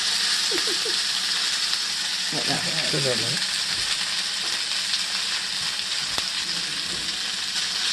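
Knephla dumplings frying in a pan, a steady loud sizzle throughout, with brief scraping and stirring clatter and a few spoken words underneath.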